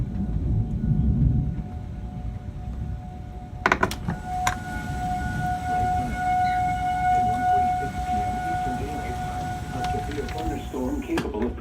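A civil defense tornado siren wails in Louisville during a 2018 thunderstorm, its steady tone sounding over rain and rumbling background noise, with a few sharp knocks partway through.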